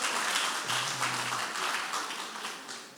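A church congregation applauds during a united worship service, a dense, steady wash of clapping that carries through the whole stretch at moderate level with no voices rising above it.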